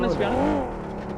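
A motorbike engine in the battle royale game BGMI whines past, its pitch rising and falling over about a second, with a voice over it.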